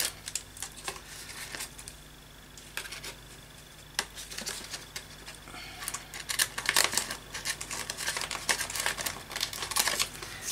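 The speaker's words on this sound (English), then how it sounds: "I'm just going to cut my plastic bag down." Snipping and crinkling of plastic as scissors cut through a bag, close up, in irregular bursts with no talking.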